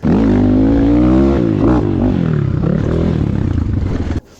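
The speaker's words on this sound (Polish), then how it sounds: "Wydech. No motor gada całkiem rasowo" A Barton NXT 300 Chinese cross motorcycle idles and revs through its exhaust at a track, a loud, close, throaty engine tone that rises and wavers before cutting off abruptly near the end.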